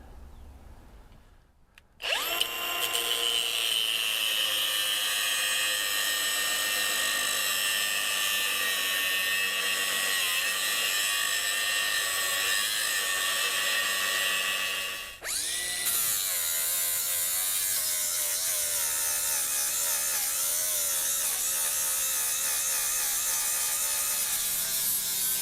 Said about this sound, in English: first thing we're going to do is just cut that off with our cutting wheel